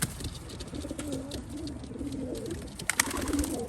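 Several pigeons of mixed fancy colour varieties, including grizzles, checks and silvers, coo steadily in a loft while being rehomed, giving a continuous layered burble of low warbling calls from nearby without talk.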